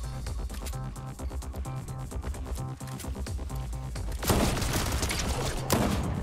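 Rapid gunfire from a pistol in a video game rattles in a dense, steady stream of shots, with a louder, harsher burst of noise near the end.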